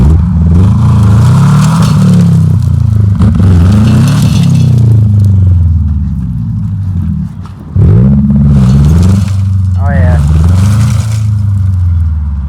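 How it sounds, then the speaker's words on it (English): A Subaru Impreza with an open differential stuck and buried, engine revving in repeated surges while one tire spins, loud and close, with brief scraping and people talking over it. "Only this tire spinning."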